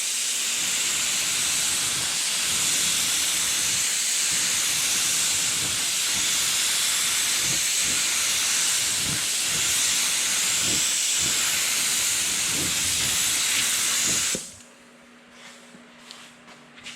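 A steady, loud hiss of an HVLP spray gun spraying primer onto a panel runs close up for about fourteen seconds, with faint clicks underneath, then cuts off sharply into near silence.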